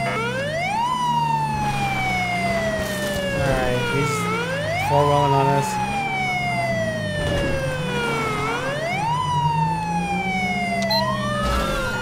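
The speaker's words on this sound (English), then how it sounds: "I love this siren here." A wailing police siren on a Dodge Charger SRT8 state patrol car in GTA V sweeps up and down in repeated long cycles, loud and close over engine rumble, with brief talk in between.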